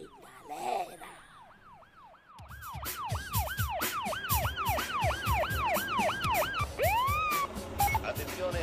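An Italian police car siren wails, a loud, rapid up-and-down cycling tone that starts after a brief muffled sound and continues steadily with traffic noise underneath.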